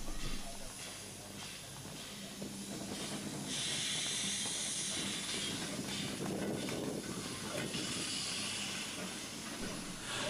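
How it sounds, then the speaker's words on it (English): An LBSCR Terrier steam locomotive, number 83 Earlswood, pulls away with a short train of brake vans, giving loud sustained steam hiss in long bursts over a low rumble, with a voice faintly in the background. "another Terrier in the shape of number 83 Earlswood, who is just departing with a short train of brake vans"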